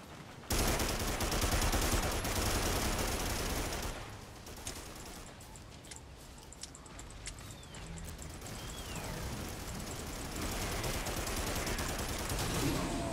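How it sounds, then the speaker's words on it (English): Gunfire and explosions from the Primal Carnage game, with flamethrower bursts and grenade blasts in a forest chasm deathmatch, loud and continuous at first, then dipping into scattered pops and crackle before building back up. "I'm just kind of running around shooting fire and throwing grenades all over the"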